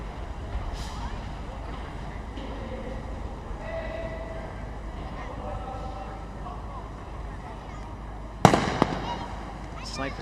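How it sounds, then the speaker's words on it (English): At a SWAT challenge in the UAE, sniper rifles fire on targets at 100 metres: a sharp, distant crack and a quick second report sound near the end, under ongoing commentary and outdoor background noise. "Snipers are in position and starting to drop their targets at the 100-meter mark"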